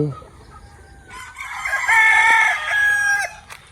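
A rooster in a backyard poultry pen gives one loud, close, drawn-out crow, with hens clucking softly around it before and after.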